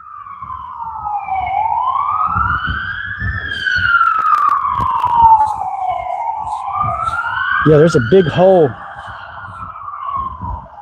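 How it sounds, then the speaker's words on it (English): Wailing sirens rise and fall steadily throughout, fairly close and loud, with a second siren joining near the end while a person talks over them, heard outdoors during target shooting. "Sirens."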